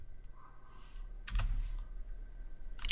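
Keys tapped on a computer keyboard, a short quick burst of soft clicks close by after a brief quiet stretch, with a faint steady hum in the background.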